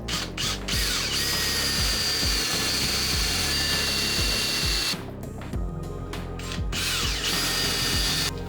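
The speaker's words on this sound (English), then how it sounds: "I'm going to countersink that now and pilot it so that I can pellet it later with some ash." A power drill countersinks and bores a pilot hole in ash wood in repeated short whirring bursts. The bit revs up and down with brief pauses between passes, loud and close, with no talking.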